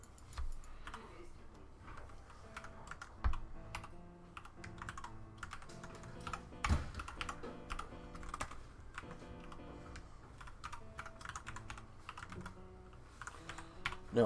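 Quiet, rapid clicking of keys on a computer keyboard, typed in irregular bursts and runs with short pauses, close to the microphone with no voices.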